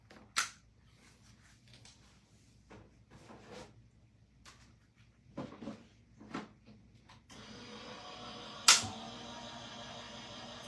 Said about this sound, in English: Turn on my die cut machine.